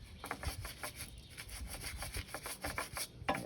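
Scraper rubbing and scraping caked dirt off a Cub Cadet garden tiller, a close, uneven run of short rasping strokes that repeats steadily with no talking.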